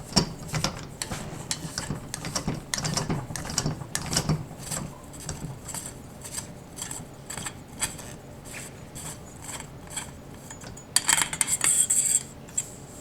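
Metal clicks and light scraping as the shroud is unscrewed from a synthetic-stocked Benjamin Marauder air rifle, a steady run of small close taps and rattles with a brighter, busier burst of metallic scraping near the end.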